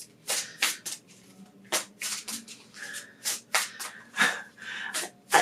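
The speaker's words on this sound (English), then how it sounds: "Yes, I am shuffling really weird." Oracle cards being shuffled in an irregular, awkward rhythm, a string of sharp riffling bursts close to the mic with brief pauses between, no talk.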